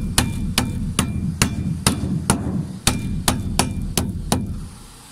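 A hammer pounds a 2x4 into a saw-cut slot during house framing over a plywood floor, with about eleven sharp, evenly spaced blows ringing out loud and close.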